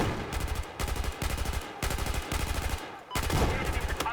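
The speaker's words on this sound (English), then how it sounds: "Listen to those snipers, the semi-auto snipers. You hear crack," Rapid semi-auto sniper rifle shots crack out in tight repeated bursts in an online shooter match, each volley a string of sharp reports separated by brief pauses, loud and close with little talk.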